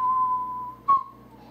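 A single clear whistled note from a song is held steadily, then bends briefly at a sharp accent before settling back.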